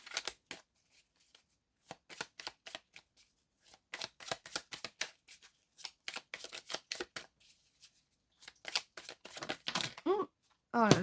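A deck of cards is shuffled and cut by hand during a tarot-style reading: bursts of riffling, flicking cards and sharp slaps, close and irregular, ending in a fast riffle with a brief crisp whirr.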